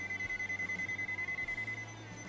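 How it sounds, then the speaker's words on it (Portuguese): A rapid, steady series of short electronic beeps from a Mustool MT009 multimeter's non-contact voltage detector, fairly quiet, repeating for about two seconds over a faint hum. "Ele indica e dá um bip. O bip é um pouco baixo."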